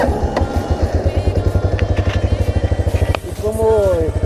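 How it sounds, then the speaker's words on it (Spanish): An Italika RT180 motorcycle engine in neutral starts and settles into an even, rapid idle putter, close and fairly loud, with a brief dip and a higher whine near the end. "Vamos a encender la moto y van a escucharlo."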